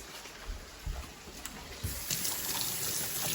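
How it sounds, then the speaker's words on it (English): Tap water runs steadily into a kitchen sink while hands are washed beneath it, a continuous close splashing gush that grows a little fuller partway through, with no talking. "I'm gonna wash my hands."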